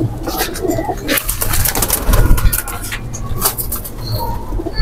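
Lal Peri pigeons coo in a loud, busy loft, their low throaty calls overlapping continuously with rustling and other bird noise close by.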